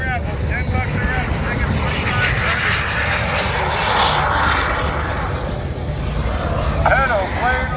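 A Super Salto jet sailplane's engine drones steadily and loudly as it passes overhead at an airshow, with a continuous broadband roar and wind noise throughout.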